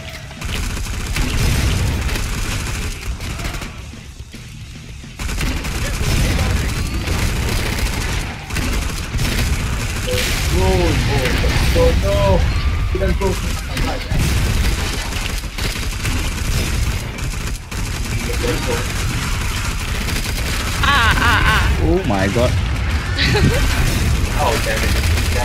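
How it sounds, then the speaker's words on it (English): Poison explosions and gunfire in the co-op shooter game Killing Floor 2 boom and crackle densely and continuously, loud and chaotic, with bursts of rapid shots and faint voices underneath. "All those poison explosions."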